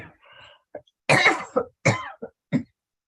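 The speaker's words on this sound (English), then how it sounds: "Just coughing." Several short, sharp coughs in an uneven series during a community board meeting, close and fairly loud, with brief silences between them.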